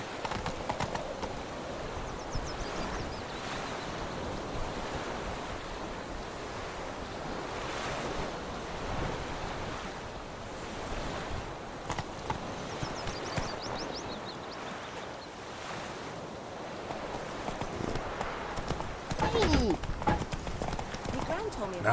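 Roach, a horse in The Witcher 3, trotting with a steady clip-clop of hooves outdoors among waves, surf and wind gusts, while people talk over it.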